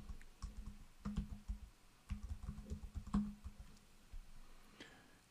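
Someone types a task name on a computer keyboard, producing short bursts of crisp key clicks with brief pauses between them, close and fairly quiet, with no talking.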